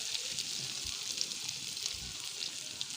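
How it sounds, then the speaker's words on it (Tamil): Tomatoes sautéing in a pan for idli sambar, a steady soft sizzle with light crackle running throughout, close and moderately quiet. "தக்காளியை நல்லா வதக்கி விட்டுறலாம்"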